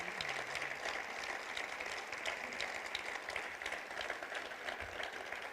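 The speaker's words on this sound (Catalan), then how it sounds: "I vull demanar un fort aplaudiment per a tota aquesta gent que combat per la llengua aquí a la Catalunya Nord" Faint, distant applause from a crowd at a Catalan European election campaign rally, a steady low patter of many hands with a murmur of voices underneath.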